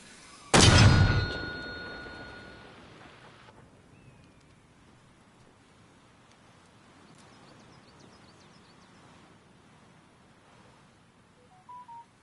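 A phone gives short electronic beeps, with steady tones over a huge booming artillery blast from an Arma Reforger session and its long fading rumble, then two quick beeps near the end; nobody speaks.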